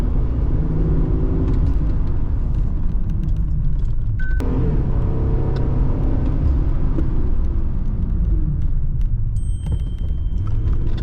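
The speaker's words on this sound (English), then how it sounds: "get up to 40 miles an hour, slam on your brakes" Heavy overlanding rig accelerating up to about 40 mph then braking hard, a steady loud road rumble and engine drone inside the cab with light rattles, no talking.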